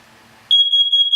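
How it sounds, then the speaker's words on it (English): A carbon monoxide alarm in a basement sounds a loud, piercing, steady electronic tone that starts abruptly after a moment of quiet and holds to the end. "Carbon monoxide alarm silenced in the basement."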